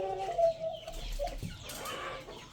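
Chickens cluck and call on a poultry farm, a few close, irregular clucks and squawks over quiet background, with no talk.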